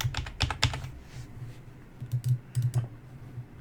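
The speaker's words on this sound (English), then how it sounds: "I think I'm just going to type out" Keys tapped on a computer keyboard, a quick cluster of clicks followed by a pause and then a second, more spaced run of keystrokes, fairly close with no talking.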